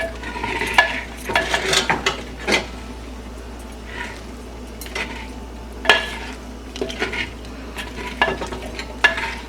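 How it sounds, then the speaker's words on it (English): Egg fried rice is sautéed in a wok, a soft sizzle beneath repeated spatula scrapes and metallic clinks against the pan, close and irregular, with no talking. "Stir it well. I'll just saute this"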